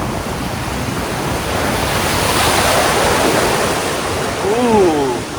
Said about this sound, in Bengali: ঢেউগুলো দেখো, দারুণ, ভীষণ বড় বড় ঢেউ।